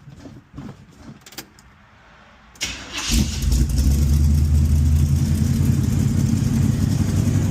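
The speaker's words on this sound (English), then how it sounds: "Fires right up every time." Chevrolet El Camino with a 305 V8 cranks briefly after some quiet handling noises, then catches and settles into a loud, steady rumbling idle close by.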